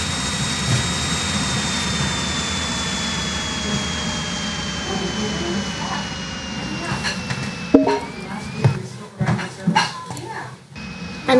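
An F-18 fighter jet engine in the Minecraft MC Heli mod, a continuous loud roar with a high whine that gradually slides lower before breaking into intermittent bursts and clatter near the end, with talk partly over it.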